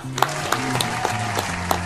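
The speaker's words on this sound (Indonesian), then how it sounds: "Tepuk tangan dulu buat Bro." A small audience claps briefly in a short burst of applause after an interview with a former kindergarten teacher turned businesswoman, with a voice talking over it.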